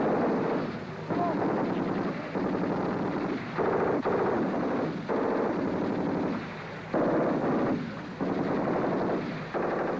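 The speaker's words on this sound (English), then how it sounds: "the Minimi fires a 200-round belt, or it can be used with a 30-round rifle magazine" A Minimi light machine gun, fed from a 200-round belt, fires in a series of rapid, loud bursts separated by short gaps, with a roaring, rough texture throughout.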